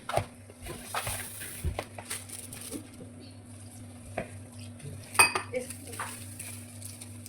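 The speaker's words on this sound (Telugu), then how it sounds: "బాగా మిక్స్ చేయాలన్నమాట, బాగా కలపాలి" Pakora batter being mixed by hand in a bowl, with soft stirring, scraping and occasional clinks of utensils against the dish, close and moderately quiet, under intermittent talk.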